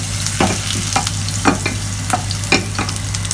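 Ingredients frying in hot oil in a pan, a steady sizzle under repeated scraping and stirring strokes about every half second, close and moderately loud, with no talking.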